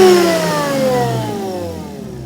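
Supercharged car engine, warmed up, revving then settling back, its loud harmonic whine sliding downward as the revs fall, close by with no talking.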